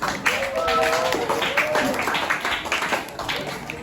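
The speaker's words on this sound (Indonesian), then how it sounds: "Tepuk tangan untuk Alis" A school class claps for a group about to present in a lesson, a brief, busy patter of many hands with students' voices mixed in over it.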